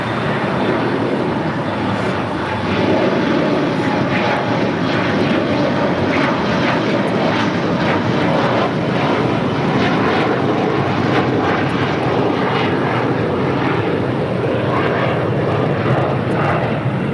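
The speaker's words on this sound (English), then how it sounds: "That's American Airlines Flight 2994 coming from Chicago O'Hare and a 737-800." An American Airlines Boeing 737-800 jet arriving from Chicago at LAX roars loudly and steadily throughout, a broad, sustained engine rumble with no talk over it.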